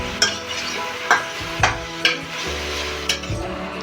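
Chopped onions frying lightly in a pan for potato kachori, a low steady sizzle punctuated by several sharp metallic clinks of a spoon stirring against the pan.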